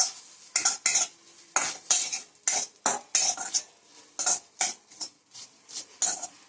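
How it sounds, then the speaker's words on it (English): Grated coconut fries in a pan while a spoon stirs it in quick scraping strokes against the metal, a steady series of about a dozen sharp scrapes close by with short gaps between them and a faint sizzle beneath, with no talking. "add this coconut into it and let it fry for just 2 to 3 minutes"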